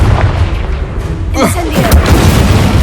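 A Confringo blast spell explodes in Hogwarts Legacy, a booming burst with crackling sparks that follows a low rumble, loud and close over continuous in-game battle noise.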